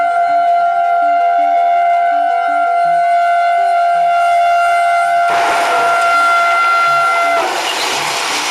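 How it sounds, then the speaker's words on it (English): A railway crossing warning alarm sounds as a loud, steady, sustained tone with a faint pulsing beat beneath it. A broad rushing roar joins it partway through, and both continue together. "Seconds later, train warning alarms sound and passengers evacuate in time."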